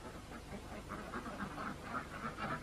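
Farmyard ducks quacking in a repeated, moderately loud chorus of short calls, with other poultry such as chickens and geese nearby on a permaculture smallholding.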